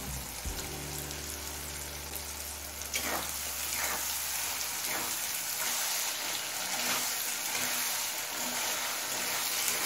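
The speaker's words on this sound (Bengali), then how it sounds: "এবার মিডিয়াম ফ্লেমে আচারটা আরও কিছুক্ষণ রান্না করে নেব" Mango pickle with spices cooking in a pan on a medium flame, a steady close sizzle and bubbling with soft crackles and pops throughout, plus a brief low clatter near the start.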